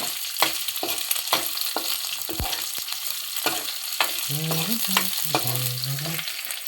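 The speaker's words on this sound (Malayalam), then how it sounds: "കുറച്ച് പച്ചമുളക് ഇട്ട് നമ്മൾ വീണ്ടും കുറച്ചൊന്ന് ഇളക്കുന്നു." Green chillies fry in a pan for a liver fry, sizzling steadily while a spatula scrapes and knocks against the pan in repeated stirring strokes, close and moderately loud.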